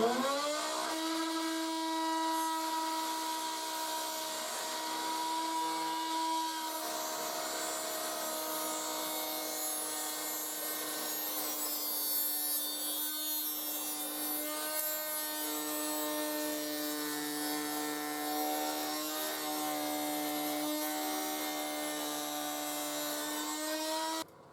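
Handheld electric router cutting a tongue into wood, a steady high-pitched motor whine with a sustained cutting tone running continuously and loud throughout, with slight shifts in pitch as the bit works along the board.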